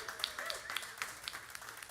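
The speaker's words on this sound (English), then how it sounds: "how about one more round of applause for Shlomo Franklin" Scattered audience clapping, sparse and fairly faint, for Shlomo Franklin at a live radio show with a small crowd, individual claps distinct and uneven.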